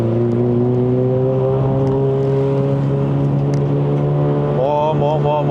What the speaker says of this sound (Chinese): 我来磨一下轮胎也好。